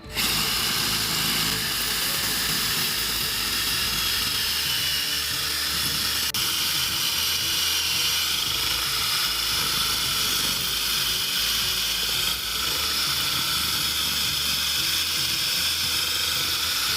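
A power drill bores steadily into a cinder block wall for a trellis, a loud continuous grinding whine with a rough masonry rasp that runs without a break from start to finish.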